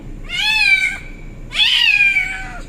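A cat trapped inside a trash bin gives two loud, drawn-out meows close by, separated by a short pause, with no talking.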